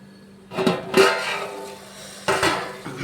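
A lid clanks onto a metal cooking pot of vegetable pulao, with a couple of sharp metallic knocks and rattles followed by a second clatter a moment later, close and clear.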